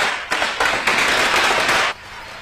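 Firecrackers burst in a residential colony, giving a loud, close run of rapid crackling pops that builds in steps and holds for over a second before cutting off.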